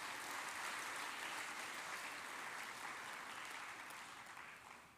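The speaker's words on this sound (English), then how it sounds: "Let's give them a wonderful round of applause" Parents and guests give a sustained round of applause for students at an education ministry award ceremony, dense even clapping from a large hall that fades slightly toward the end.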